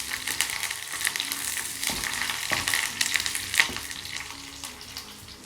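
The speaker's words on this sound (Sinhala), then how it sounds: "සුදු ලූණු පෙති විදිහට තමයි එකතු කරගන්නේ." Garlic slices frying in oil in a pan, giving a steady close sizzle with occasional stirring scrapes and no talk.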